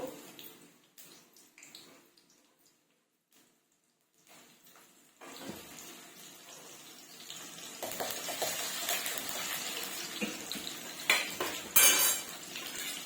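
Chopped onions go into hot oil for a fenugreek chicken curry, and after quiet handling and clinks of a pot, a steady sizzle rises and holds, with occasional utensil scrapes over it.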